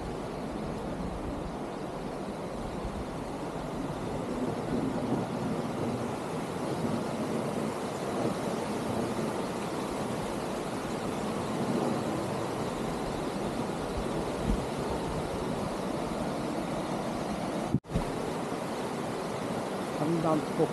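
A waterfall on Chiaksan mountain rushes in a steady, dense roar that holds unbroken for the whole stretch, loud and close with no pauses.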